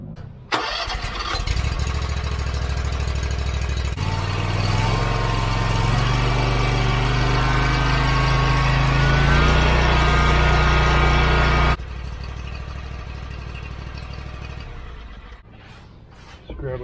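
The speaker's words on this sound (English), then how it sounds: "Now I'm going to start the mower up and let it run for a second." Gravely Compact Pro zero-turn mower with a Kawasaki engine cranking and starting, then running loudly at a steady roar before dropping to a quieter idle, with brief talking at the start.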